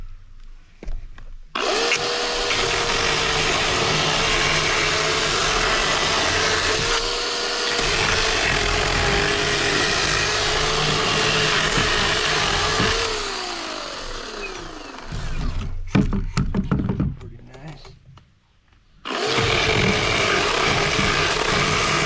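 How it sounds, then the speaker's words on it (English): A chainsaw roars loudly and steadily for several seconds, bogging down as it bites through tree logs, then sputters, pauses, and revs back up at full power. "make some more cuts with the chainsaw"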